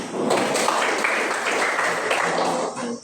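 Students in a classroom clap together, a dense, steady burst of applause lasting about three seconds at moderate loudness, with some voices mixed in.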